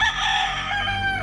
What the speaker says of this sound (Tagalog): Oh, nagsasagutan to mga tandang na to.